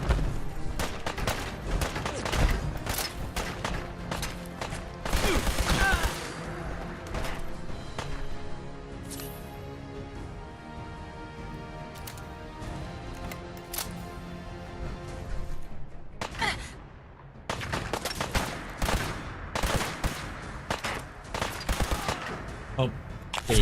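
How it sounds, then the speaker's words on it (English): Rapid automatic gunfire from the video game Fallout 4, dense bursts and volleys of shots running almost continuously with brief lulls, loud and close throughout. "Y'all stop shooting me."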